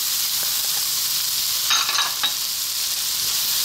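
Carrots and potato frying in a pan for pork sausage fried rice give a steady, loud hissing sizzle throughout, with a few brief scraping stirs in the middle.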